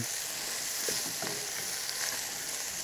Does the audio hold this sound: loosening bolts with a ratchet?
no